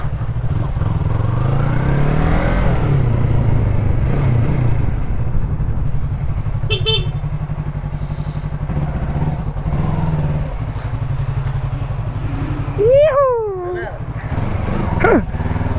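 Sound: motorcycle with GRS full exhaust, Yamaha MT-03/R3

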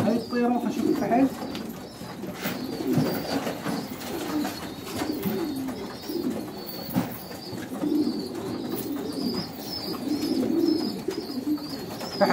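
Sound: male pigeon cooing

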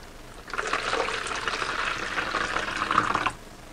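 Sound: pouring warm water for bread dough

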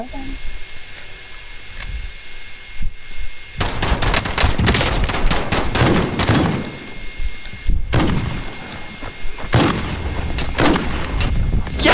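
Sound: gunfire in a shooter video game, shotgun and pistol

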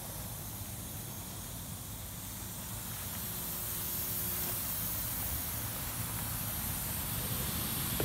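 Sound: air hissing out of Sunfish sailboat hull through missing rivet

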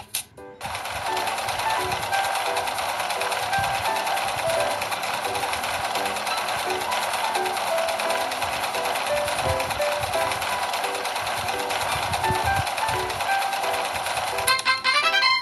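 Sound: sewing machine sewing a doll's jacket

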